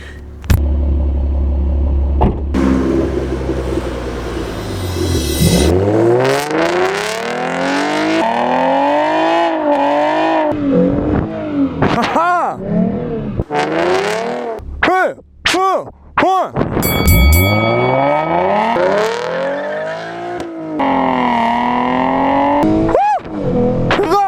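A car accelerates hard in a 0 to 60 run, its engine sweeping up through repeated rising revs with short dips between gear changes, loud and close, with sharp pops near the end.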